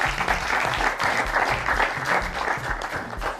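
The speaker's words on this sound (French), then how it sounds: "Applaudissez très fort pour lui." An audience at a children's TV competition show applauding, a loud continuous patter of many hands clapping close by with a few faint voices mixed in.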